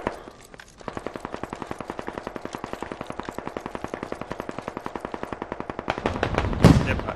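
Sustained machine gun fire in the Squad military shooter game, a rapid, even burst of close, loud shots that runs for several seconds and ends in a heavier blast.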